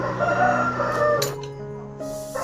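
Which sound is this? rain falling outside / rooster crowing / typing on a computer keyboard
rooster crowing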